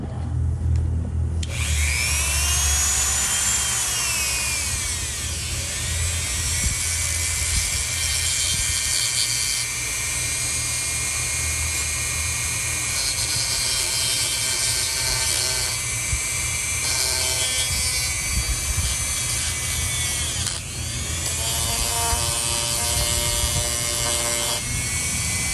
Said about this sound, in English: when using a Dremel tool, they're very good at spitting particles out